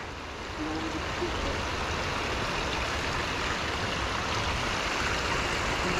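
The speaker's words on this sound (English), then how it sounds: "Yeah, waterfall." A waterfall on a winter hike roars as a steady, loud broadband rush of falling water, constant throughout with no voices.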